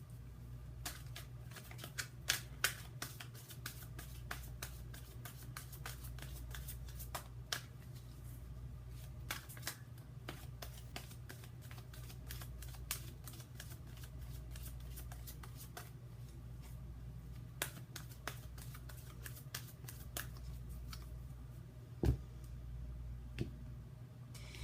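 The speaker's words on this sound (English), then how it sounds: "I'm going to go ahead and shuffle the love cards" Soft, continuous riffling and light shuffling of tarot oracle cards, with occasional sharper taps and snaps, over a steady low hum.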